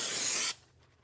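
Brake parts cleaner hisses from an aerosol can onto a new brake rotor for a Chevy disc brake conversion, one steady spray burst about half a second long, close by, then cutting off to near silence.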